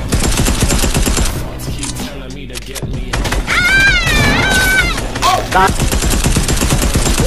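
Rapid bursts of automatic gunfire in a first-person shooter video game, loud and dense, with a short lull midway and a shouting voice over the shots.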